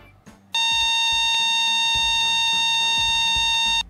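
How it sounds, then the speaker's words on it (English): A Lloyd's 8-track radio alarm clock gives a loud, steady electronic buzzer tone after a faint click, holding continuously for about three seconds before it cuts off. "I'm just gonna play some audio of what the buzzer actually does sound like"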